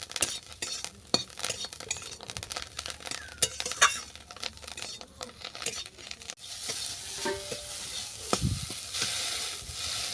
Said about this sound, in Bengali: এই সজনা ফুলটাকে ভালো করে চেপে চেপে আমি ভেজে নেব